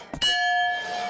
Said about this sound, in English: If the bell rings,